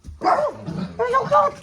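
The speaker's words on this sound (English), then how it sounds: "Excuse the barking and the general craziness." Small dog barks and yips in short bursts at home, close and lively, mixed with a voice talking affectionately over them.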